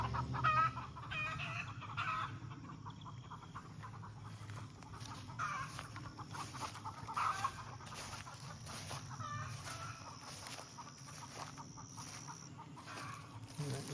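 Chickens and young biddies on a rural farm cluck and call in a busy outdoor flock, with a rooster crowing now and then, steady and fairly close throughout.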